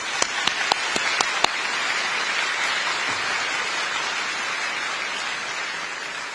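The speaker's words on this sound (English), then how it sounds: "please join me in applause for Vice President-elect Bi Kim Xiao" A dinner audience applauds in a dense, even wash of clapping for a vice president-elect, with a few sharp, close claps standing out in the first seconds before the sound settles into steady applause.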